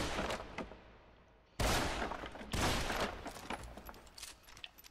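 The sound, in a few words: gunfire in the video game Deadfall Adventures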